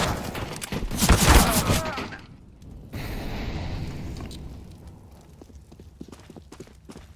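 A flashbang grenade goes off in a video game, a loud burst with a ringing high-pitched tail that cuts out abruptly, followed by scattered impacts and background game noise.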